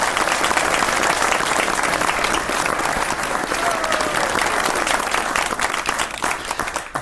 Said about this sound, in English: Oh, insert the applause.